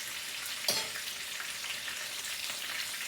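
A chicken fillet for a homemade burger fries in a pan with a steady, even sizzle, broken once early on by a brief clatter, with no voices.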